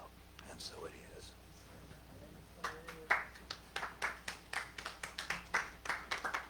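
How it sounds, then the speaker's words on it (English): Audience clapping at a spiritual celebration, beginning as scattered claps, then building into a steady rhythmic run of claps, moderately close, with a soft murmur of voices underneath. "Claps are for the God, not for me."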